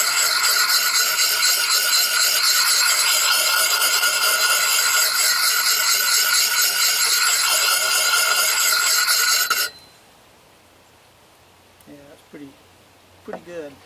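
Hand file drawn along the edge of a Collins axe to sharpen it, a loud, steady rasping scrape that runs continuously for several seconds, then stops abruptly, leaving quiet room tone and a few faint knocks.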